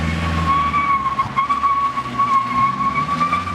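A Nissan 240SX S14 with a welded differential doing figure eights, tires screeching in a sustained wavering squeal over a loud engine drone, close and continuous.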